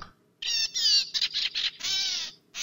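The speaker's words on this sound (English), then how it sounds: "What song does a gray cat bird sing?" A gray catbird's song: a run of bright, harmonic chirps and warbling phrases, fairly close and clear, in short bursts separated by brief pauses.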